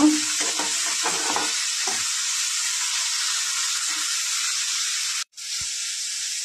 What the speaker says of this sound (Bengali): বেগুন, একটু হলুদ দিয়ে দিচ্ছি, নাড়াচাড়া করে নেব।